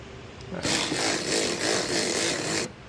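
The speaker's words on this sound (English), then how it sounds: "Let me grab the ratchet." A ratchet driving bolts on splash guards for a 2023+ Jeep Wrangler, one continuous close buzzing whir lasting about two seconds after a brief pause, with no talk.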